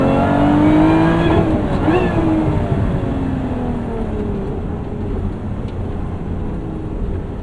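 A modified 2024 Lotus Emira sports car revs hard and loud, engine pitch climbing and dropping through gear changes with a double-clutch downshift, close and steady with no talking.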